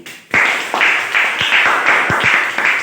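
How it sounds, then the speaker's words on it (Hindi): An audience claps together at a training session, a dense, steady burst of applause starting abruptly after a brief pause and sustained at near, loud level with a few sharper individual claps standing out. "एक बार इनके लिए जबरदस्त ताली बजाइए।"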